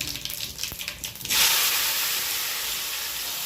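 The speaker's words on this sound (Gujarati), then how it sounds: "હવે આપણે પહેલાં ટમેટું નાખીશું વઘારે" Tomato dropped into hot oil with mustard seeds, cumin and asafoetida for a Kathiyawadi baingan oro, loud close crackling that bursts into a strong steady hiss and sizzle that carries on to the end, with no talk.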